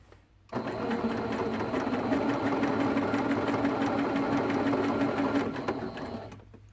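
A sewing machine stitches quilt squares together in one steady, continuous run of motor hum and rapid needle clatter, loud and close, starting abruptly and winding down near the end.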